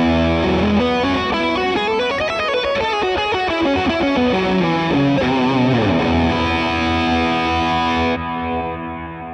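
An Ibanez electric guitar through an Axe-FX III crunch box distortion plays a fast melodic run, loud and sustained, ending on a ringing held note.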